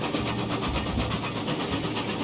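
Steady rumble of a locomotive in the Railroads Online game as the train starts rolling toward a logging camp, a continuous mechanical drone with faint rhythmic clatter, loud and close throughout with no talk.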